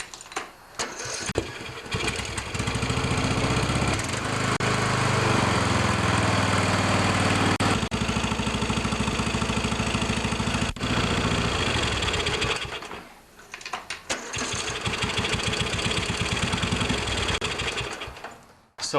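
A Briggs & Stratton OHV lawn tractor engine cranks and catches after a valve adjustment, then runs loud and close with a steady idle, cuts briefly and restarts into a strong running note.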